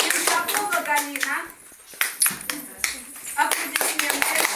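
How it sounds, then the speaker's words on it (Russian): An audience claps after a dance performance, scattered hand claps rising and falling while a presenter and children's voices talk over them close by. "Аплодисменты."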